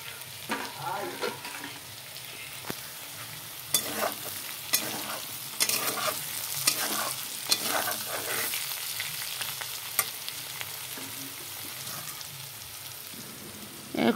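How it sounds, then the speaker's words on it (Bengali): Potatoes fry in a pan with a steady crackling sizzle throughout, broken by repeated sharp scrapes and knocks of stirring. No one speaks. "আলুটা ভাজা হয়ে গেল"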